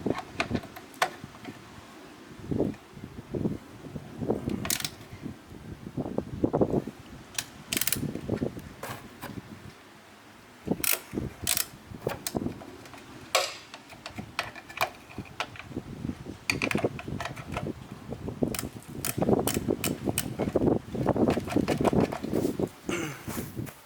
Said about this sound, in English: you'll want a ratcheting wrench to get up in there